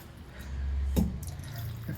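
A short splash of water poured into a bowl of tamarind, with a brief clatter near the middle and a low hum underneath.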